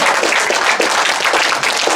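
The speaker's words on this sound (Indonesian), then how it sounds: "Tepuk tangan untuk Ibu." Dense applause from an audience after a farewell speech honouring a departing colleague, steady clapping throughout at close to mid distance, with no voices over it.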